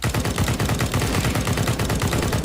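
Rapid automatic SG rifle fire in the shooter game CS:GO, a dense unbroken burst of loud close shots lasting the whole stretch, with no talk over it.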